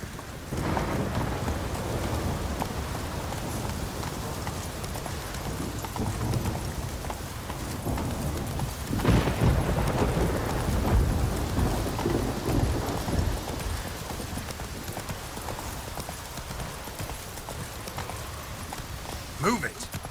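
Horse hooves clip-clopping at a gallop in The Witcher 3 Wild Hunt, a steady rhythm under rain and rolling thunder, with a rider urging the horse on.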